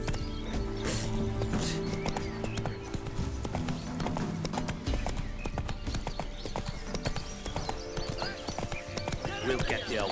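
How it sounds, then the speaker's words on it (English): Hooves of a horse called Roach in The Witcher 3 clip-clop steadily on the ground, a continuous brisk rhythm under game music and other ambient sound, with no clear talking. "That's it, Roach."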